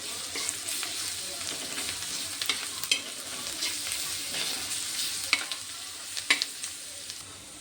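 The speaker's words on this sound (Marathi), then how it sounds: "आता लसण अद्रक टाकू आपण पेस्ट, अद्रक लसणाची पेस्ट" Ginger-garlic paste fries in oil for mutton fry, a moderate, even sizzle close by with scattered crisp ticks and spatula scrapes.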